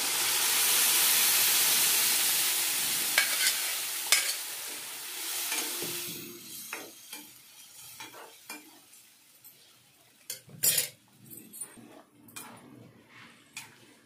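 Tempering for ridge gourd dal frying in a pan, a loud hissing sizzle that fades away, followed by scattered clinks and scrapes of a spoon against the pot, close by with no talking.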